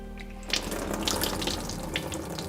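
Soaking water is drained off dry legumes, starting after a brief low hum and then pouring in a steady close splashing rush, like water running into a sink.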